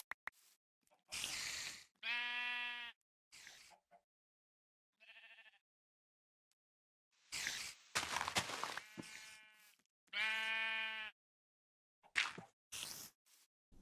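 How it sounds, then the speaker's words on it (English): Minecraft sheep in the Nomifactory modpack bleat several times in short wavering calls, spaced out with quiet gaps between, alongside a few brief game clicks and thuds. "Here's another sheep."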